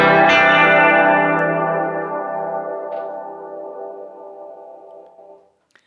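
Electric guitar through a Keeley Caverns V2 pedal with modulated reverb and delay: one strummed chord rings out, swells with shimmering wobble and echoes, then slowly decays over several seconds to silence.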